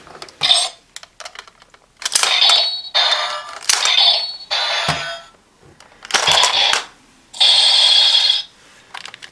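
Electronic attack sound effects from a Kamen Rider OOO DX Medajalibur toy sword after medals are loaded: several loud, bright bursts of chiming, beeping tones, about a second each, with short gaps between them and no talking.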